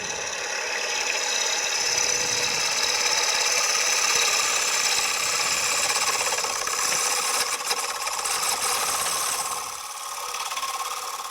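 A wooden platter being hollowed out on a wood lathe: a loud, steady, rasping scrape of the tool cutting the spinning wood, continuous for about ten seconds with a brief dip near the end and no talking.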